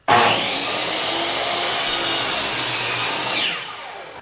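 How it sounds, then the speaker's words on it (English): A miter saw bites through wood framing for a teardrop trailer build, a loud whining cut with a brighter screech midway and a winding-down tail at the end, no talking. "use a miter saw to cut those angles"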